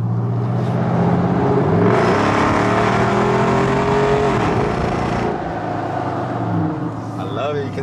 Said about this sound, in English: I love how this truck sounds